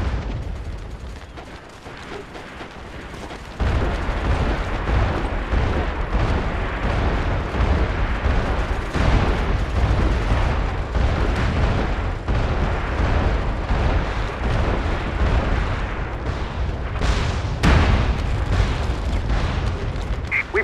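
Incoming artillery in the shooter game MAG: heavy, continuous booming and rumbling explosions with repeated sharp blasts, loud and dense throughout, with battlefield noise layered beneath.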